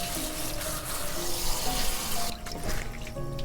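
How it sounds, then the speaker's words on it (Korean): Running tap water splashes over trimmed perilla leaf sprouts being rinsed in a sink, a steady close wash with some clinks and a brief dip in flow midway. "다듬었으면 물에 한번 씻어줍니다"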